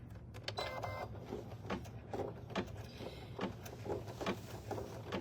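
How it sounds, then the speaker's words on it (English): An embroidery machine top stitching an e-reader sleeve, giving a quiet, rapid run of mechanical stitching ticks and thumps over a low steady motor hum. "I'm gonna run the next step to do just that top stitching right there"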